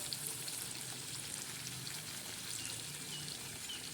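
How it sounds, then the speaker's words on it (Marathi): Stuffed brinjal curry with a peanut masala comes to a boil in a pan, a faint, steady bubbling and crackling that stays quiet throughout. "ते बघा कशी आता आपली भाजी छान अशी तिला उकळी येत आहे"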